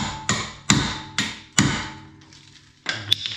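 Hammer blows strike a brake rotor on a Honda S2000 during a front caliper job, four sharp ringing metallic hits close by with a short decay after each, then a fainter clatter.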